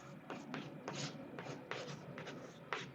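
A pen or marker scratches out an equation on a writing surface, with short strokes in an irregular rhythm, close and soft, with no speech.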